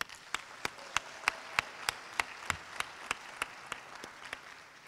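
Sparse applause from a few people at a county children's well-being community meeting, individual claps sounding in a steady, evenly spaced rhythm with a faint room background.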